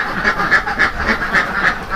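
Ducks quack in a quick, steady series of nasal calls, fairly close and loud, with no talking.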